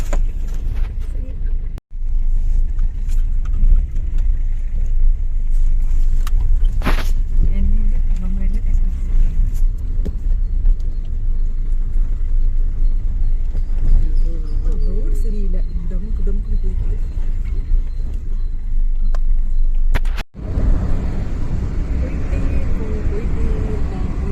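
A car drives along on a day trip to Nandi Hills, a steady loud engine and road rumble throughout, with people talking inside over it.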